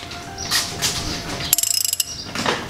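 A ratchet wrench clicks in a fast run of about ten sharp ticks while tightening on a BMW E90 during an oil change, close and loud, with handling noises around it.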